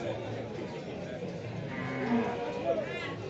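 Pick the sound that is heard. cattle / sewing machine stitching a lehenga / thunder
cattle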